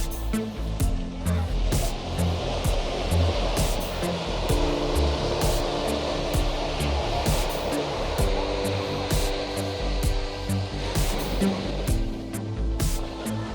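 Ocean waves at Agonda Beach in South Goa roll in a loud, continuous wash of surf and rushing water, with no pauses and no voices.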